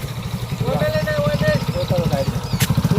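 A motorcycle idles close by with a steady, throbbing low engine pulse, while someone talks loudly over it in a roadside comedy scene with police.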